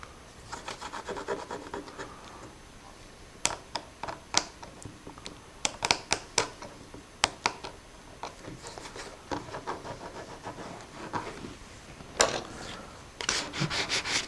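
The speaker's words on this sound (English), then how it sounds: "we'll cut a little cross-grain scratch in here" A tool scrapes a cross-grain scratch into a finished wood surface, producing soft rubbing interspersed with many sharp clicks and ticks, close and quiet, without speech.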